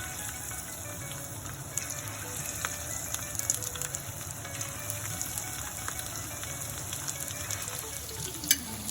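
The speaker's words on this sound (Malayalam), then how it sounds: "നമുക്കിനി ആ നന്നായിട്ട് ഇരി ചൂടായിട്ടിരിക്കുന്ന എണ്ണയിലേക്ക് നമുക്ക് ചിക്കൻ പീസസ് ഇട്ട് കൊടുക്കാം" Chicken pieces fry in hot oil for a second batch, giving a steady, dense sizzle and crackle with scattered pops and occasional clinks, close and continuous with no talking.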